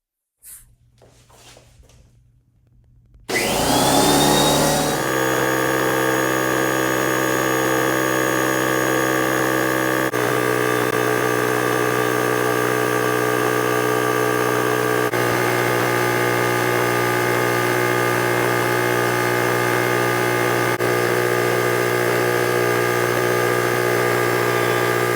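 An air compressor that will not shut off kicks on after a brief quiet moment and keeps running loud and steady, its motor drone holding without a break to the end.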